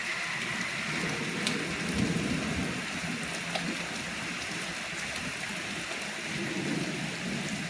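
A heavy thunderstorm pours down with dense, steady rain drumming on surfaces and low thunder rumbling through, loud and continuous from start to finish.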